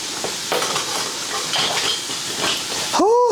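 Onion fries in a pot with a steady, close sizzle and some stirring scrapes, ending in a brief metallic clatter.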